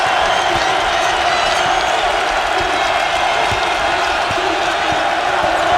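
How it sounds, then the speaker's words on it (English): A basketball arena crowd at the Pete roars in a dense, continuous wall of cheering and applause during an LSU men's game, with faint ball bounces punctuating the din. "the crowd going wild here"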